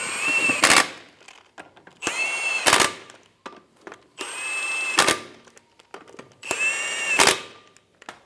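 Impact wrench running lug nuts down on a 2000-2007 Ford Focus front wheel, four short whirring bursts with rattling hammering, each ending in a sharp high whine, clear and close with gaps between.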